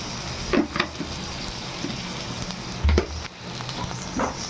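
Onions sautéing in a pan for a spinach curry, a steady close sizzle and frying crackle with occasional stirring scrapes and soft clatters.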